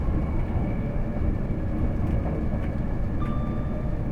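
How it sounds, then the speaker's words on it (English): High-speed steel wheels running on rails in the Train Sim World 6 game on the Riviera Line: a loud, steady rolling rumble with a thin tonal whine riding over it, continuous throughout. "That sort of high speed, steel on steel of the wheels on the rails."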